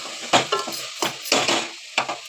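A spoon scrapes and clanks through a cauliflower, tomato and onion curry with salt, turmeric and chili powder in a pan, several bursts of stirring with soft sizzling between strokes.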